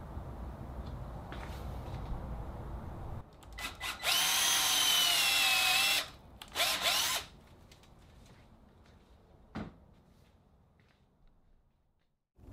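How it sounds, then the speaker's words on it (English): A power drill bores pocket holes in wood for a rolling computer desk, with two loud close whining bursts, the first about two seconds long and the second shorter, followed by quieter handling noises and a single sharp knock. "I'll drill a shallow pocket hole and use a 1/2-inch pocket hole screw"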